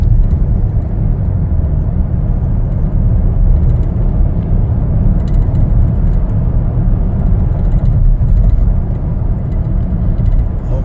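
A 2021 Chevrolet Traverse LT on the move gives a steady, loud low rumble of road and engine noise, heard from inside the cabin, constant throughout with no voices.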